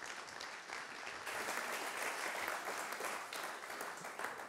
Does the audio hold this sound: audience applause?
yes